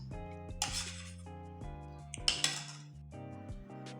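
A spoon scrapes and clinks against a bowl as coffee and orange are mixed together, with irregular metallic taps and rubbing strokes close by and no voices.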